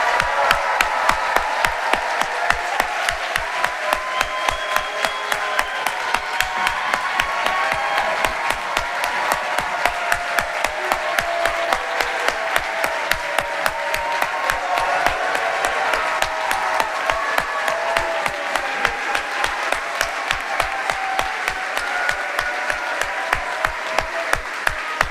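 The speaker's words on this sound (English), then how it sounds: "Can we do one more round of applause for them?" Sustained applause from a large audience celebrating a graduating class at a mid-year completion ceremony, dense steady clapping holding at an even level for the whole stretch with no talk over it.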